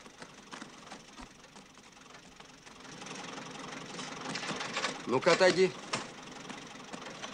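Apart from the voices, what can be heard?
tractor engine idling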